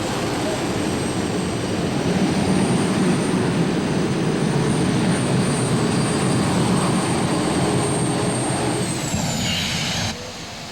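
Turbine-powered pulling tractor from Michigan at a truck and tractor pull, its turbine spinning up with a loud steady roar and a high whine that climbs, then fades at the end.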